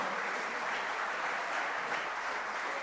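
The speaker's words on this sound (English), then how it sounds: "You got to keep those claps going, ladies and gentlemen." A crowd at the Goafest 2022 event applauding, a steady, dense wash of clapping throughout, loud and continuous.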